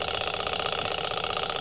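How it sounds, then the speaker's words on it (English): A solar-powered Stirling engine runs steadily at about 150 revs, giving a continuous, even mechanical whir with a fast regular pulse, close and moderately quiet with no talking over it. "A Stirling engine working from solar power."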